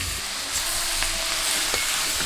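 Ground spices and onions sauté in a hot pan, giving a continuous close sizzle with a few faint clicks from stirring.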